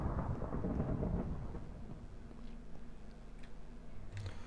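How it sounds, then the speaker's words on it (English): Rolling thunder in the Tekkit modded Minecraft game, a loud deep rumble filling the first two seconds before fading into a low ambient drone with faint rain-like ticks. "That was a lot of thunder."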